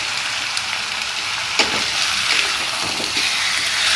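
Chicken with ginger fries in a pan over a low gas flame, making a steady, even sizzle broken by a few soft clicks of stirring, with no one talking.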